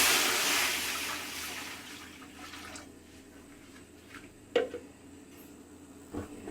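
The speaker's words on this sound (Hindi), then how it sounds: "तो सबसे पहले हम इसमें ये 2 किलो पानी है तकरीबन," About two kilograms of water are poured into a wok on a stove, starting as a loud rushing gush that fades to quiet, with a few faint splashes and knocks afterward.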